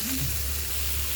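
Fish frying lightly in a pan, a steady close sizzle of hot oil continuing without pause, fairly soft.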